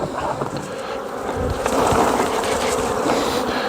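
Honey bees buzzing loudly as they are shaken off a brood frame during a hive inspection, a dense close drone that swells midway and stays steady, with no speech.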